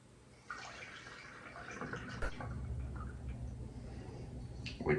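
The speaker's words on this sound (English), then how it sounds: "I'm going to pour back in the bottle." Whisky pours in a thin, trickling stream back into a bottle nearby, a soft gurgling splash that swells slightly before ending.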